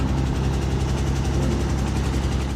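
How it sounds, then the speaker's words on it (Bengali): Boat engine on a country boat at Tanguar Haor, Sunamganj, a loud, steady close-up throbbing drone with constant low vibration and no pauses. "ঘুম ভাঙল নৌকার ইঞ্জিনের শব্দে।"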